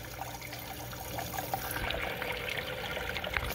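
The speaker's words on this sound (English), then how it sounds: "you'll see the water hits each of the net pots" Water trickles and splashes steadily through a 3D printed hydroponic tower, dripping onto each net pot in a continuous close wash with scattered small drips and no talking.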